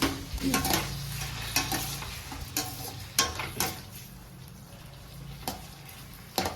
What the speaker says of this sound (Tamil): தக்காளி சேர்த்து நல்லா வதக்கி விட்டுக்கலாம் நல்லா வதங்கட்டும்